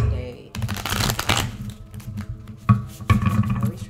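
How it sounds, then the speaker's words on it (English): A tarot deck is shuffled by hand close up, a run of quick riffling, papery flutters and taps in several bursts, with a voice speaking over part of it. "I always try to shuffle really good."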